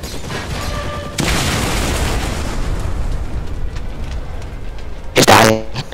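Aircraft cannon fire in the flight combat game Wings of Glory 2 rattles out in a dense, loud burst lasting several seconds, followed by a sharp booming blast near the end.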